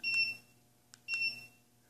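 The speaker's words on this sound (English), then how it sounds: "This one beeps." Fanimation white ceiling fan emits clear electronic beeps: one long tone, a short blip, then another long tone, crisp and isolated in a quiet room.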